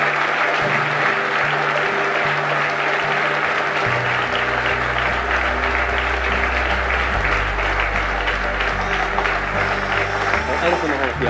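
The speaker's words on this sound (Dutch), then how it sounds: "En zij verdienen uw applaus." Sustained audience applause fills a hall during a political speech on freedom, a dense, steady clapping wash that runs for about eleven seconds, with low tones and voices faintly underneath.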